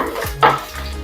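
Garlic and ginger go into a hot pan for a squid (koonthal) roast curry, giving a brief sizzle and a scrape of stirring against the pan, close and clear with no talking.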